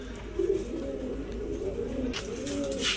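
Pigeons coo at a bird market, giving low, rolling repeated coos close by over a steady background hum, with a brief sharper noise near the end.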